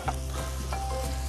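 Sunflower oil sizzling in a pan with a cheesy omelette cooking, a steady close frying hiss with a low hum underneath, brief and unbroken by talk.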